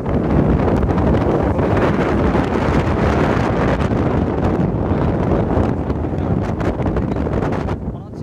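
Strong wind during a dust storm in Jamalpur roars and buffets the microphone in a dense, continuous rush that barely eases toward the end.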